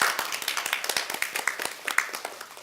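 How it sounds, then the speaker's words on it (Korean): Audience applause fills a conference room at a panel discussion marking one year of the MeToo movement, with a steady patter of many hands clapping close by for nearly three seconds. "네, 모두를 위해서 박수 한번 치시죠."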